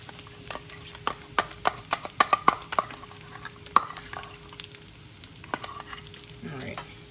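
Barbecue sauce goes into a pan of sizzling ground meat for sweet and spicy sloppy joes: a steady sizzle punctuated by a burst of sharp clicks and taps from stirring, then a softer, wetter sizzle at the end.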